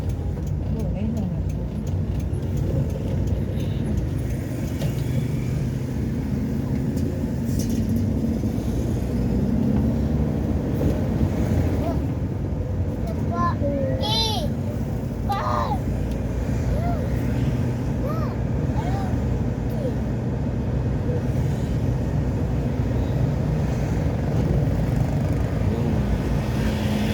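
Many vehicles passing on a road at night, overlapping engine rumbles and swells of traffic going by near and far, with people talking over them.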